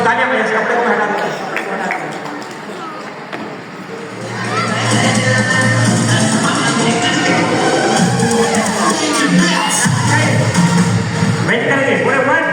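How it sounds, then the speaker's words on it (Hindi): Children and families in a festival audience at a magic show clap and cheer, a broad, steady wash of applause and excited shouting that swells after a brief lull and holds loud, with voices in the crowd. "चलो तालियां बजाइए"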